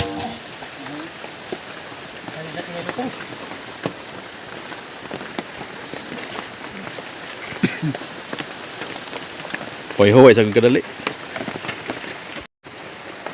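Heavy rain pours steadily onto a surface, a dense constant patter throughout, with a brief voice calling out near the end.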